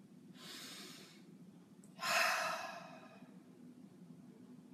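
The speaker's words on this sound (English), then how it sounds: "I want you to breathe." A slow, deep breath taken while sitting down to a meal: a soft drawn-in inhale, a pause, then a louder, longer exhale, close by and quiet, with no talking.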